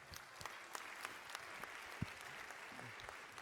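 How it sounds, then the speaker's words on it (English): An audience claps in a round of applause, with steady dense hand-clapping at a fairly faint, distant level and no speech over it. "Could you guys give them a round of applause?"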